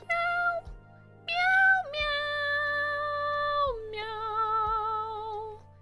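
A person imitates cat meows in a high, sung, pitch-shifting voice, several drawn-out nasal meows in a row, close and clear with no other sounds.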